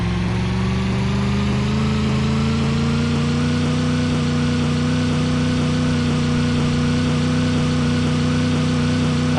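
Steady engine drone of a Roblox car driving in a video game, a loud continuous mid-pitched hum with a slowly rising tone, alone with no talk.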